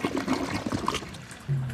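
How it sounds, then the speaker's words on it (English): A toilet flushes, water swirling and gurgling down the bowl in a short, close rush. "old man flushes Rocky down the toilet."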